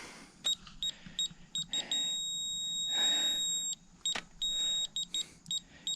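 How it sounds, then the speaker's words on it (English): A pipe laser level receiver on a road pipe installation beeps in sharp, high electronic chirps, then holds one steady tone for a couple of seconds when on grade, then returns to short repeated beeps over a faint background. "when that green light beeps, it goes steady like that. That means you're dead on."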